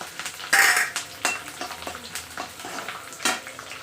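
Urad dal, curry leaves and dried chillies crackling in hot oil in a pan, with bright sizzling bursts and repeated metal scrapes and clinks from a stirring spoon, close and lively.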